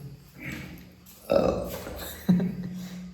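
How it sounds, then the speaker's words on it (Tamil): Two deep, loud burps after drinking water follow a soft exhale, spaced about a second apart, close to the microphone. "ஏப்பம் கொடுத்தாரு ஏப்பமும் வந்துச்சு தண்ணி குடிச்சு"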